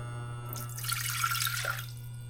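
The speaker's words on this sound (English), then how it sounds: "Put in 1 cup of water." Water pours from a cup into a pot on a stove, a steady splashing rush lasting about a second over a constant low hum, close and moderately loud, with no talk.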